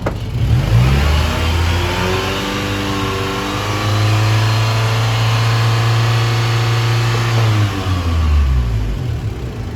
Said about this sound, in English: So now I'm gonna have Kyle give it some gas